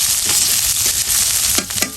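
Green chillies fry in a pan with a loud, continuous sizzle, and a couple of sharp stirring scrapes near the end.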